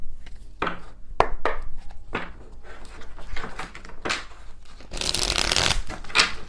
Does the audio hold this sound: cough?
no